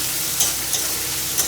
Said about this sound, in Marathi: आणि कांदा. आपण आता ह्याला छान परतून घेऊया.